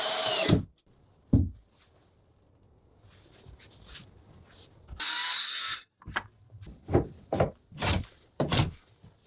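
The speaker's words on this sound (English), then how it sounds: "slowly drives in the screws with a drill, making the base of the table strong and steady" A power drill drives screws into a wooden board for a table base in a forest cabin build, giving short whirring bursts and ratcheting clicks with pauses between them, close up, with no talk.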